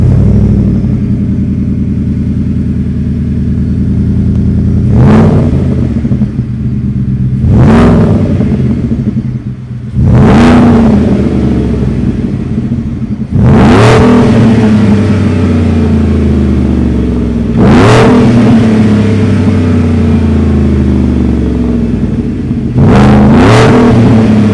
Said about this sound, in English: let's fire up this supercharged 5-liter V8 and hear how she sounds